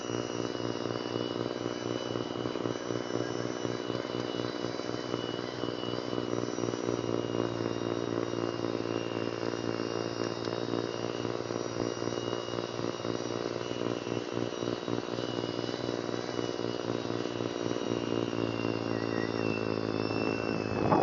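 A Ryobi RY40870 two-stage snow blower works through about ten inches of deep snow with a continuous droning, whirring hum that stays steady and moderately loud throughout.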